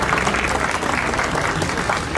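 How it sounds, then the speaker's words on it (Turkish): Steady, dense applause from an audience at the opening of a new bar association building, continuous and fairly close throughout. "Alkışlıyoruz."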